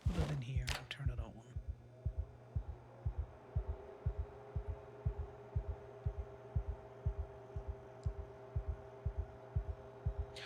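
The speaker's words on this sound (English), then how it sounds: "I play him with paranoia so that all I hear is the fucking heartbeat" Heartbeat effect from the Project Zomboid video game, a steady, deep double-thump pulse repeating about twice a second, with a low hum and brief rustles at the start.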